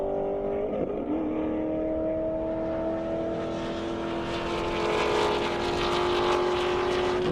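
A 2023 C8 Corvette and a 2007 Corvette launch down an airport drag strip, engine drone and tonal whine building as the cars accelerate away, growing louder and brighter toward the end.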